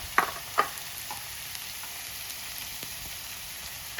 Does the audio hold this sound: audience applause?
no